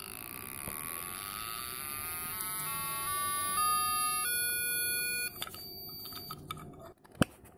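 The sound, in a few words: siren tone from Raspberry Pi Pico through BC547 transistor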